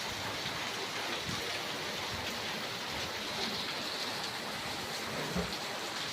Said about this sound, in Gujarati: અત્યારે ખૂબ વરસાદ પડી રહ્યો છે